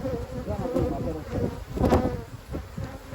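Honeybees hum and buzz up close around a hive, a dense droning swarm with individual bees swelling louder as they pass.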